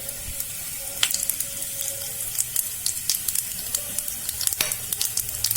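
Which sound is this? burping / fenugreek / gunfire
fenugreek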